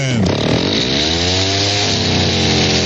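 A chainsaw engine roars steadily at close range, loud and continuous throughout, with a slight rise in pitch partway through.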